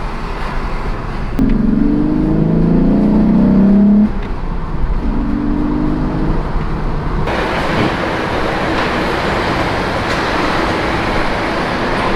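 Inside a moving Volkswagen Corrado VR6, the engine's induction and exhaust swell as it accelerates hard, then settle into a steady cruising roar with road and wind noise, close and loud throughout.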